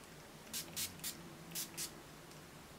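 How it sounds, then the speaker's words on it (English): Five quick hissing spritzes from an Urban Decay All Nighter setting spray pump bottle, close and crisp, in a loose rhythm over a quiet background. "Pick up with the Urban Decay All Nighter Setting Spray"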